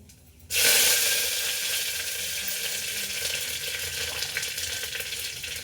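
Mustard seeds, radhuni and curry leaves hit hot oil with a sudden loud burst of sizzling that settles into a steady, dense crackle, with no voices.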